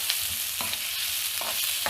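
Sliced onions fry in oil in a pan until light brown, with a constant hissing sizzle broken by a few distinct scraping strokes of a spoon stirring them.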